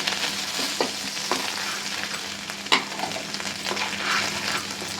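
Black cumin seeds and red chilli sizzle in hot oil in a pan, prepared as a tempering for taro leaves, with a steady close frying hiss broken by a few sharp pops and stirring clicks.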